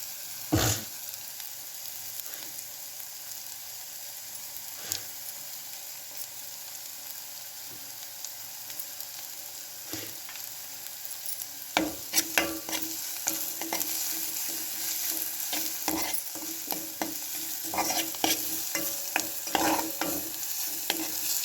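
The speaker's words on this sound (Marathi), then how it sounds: "हळद टाकून हा मसाला परतवून घेऊयात।" Masala with turmeric stir-fried in a pan, a soft continuous sizzle broken by scraping spatula strokes that grow busier and louder in the second half.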